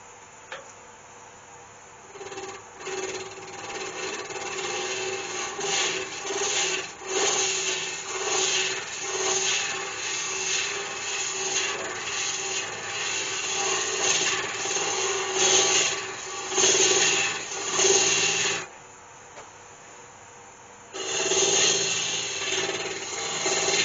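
Homemade hollowing tool cutting walnut on a wood lathe, a steady rasping, scraping drone in long sustained passes with brief pauses, close and loud, with no speech.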